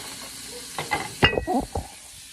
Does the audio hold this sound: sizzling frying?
yes